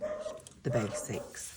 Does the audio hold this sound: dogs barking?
yes